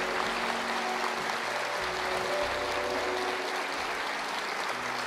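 A church congregation claps continuously and enthusiastically, a dense steady wash of applause with a faint low hum beneath.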